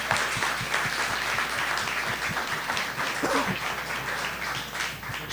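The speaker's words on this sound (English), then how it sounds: "a round of applause for all of our sponsors" Audience applause for sponsors at an evening Epic Chef cooking competition event, a steady wash of many hands clapping at moderate level with no voices over it.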